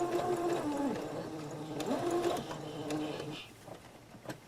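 A sewing machine stitches slowly along a curved seam on a fabric face mask, its close motor whine rising and falling in speed over several short runs before easing off into soft handling noises.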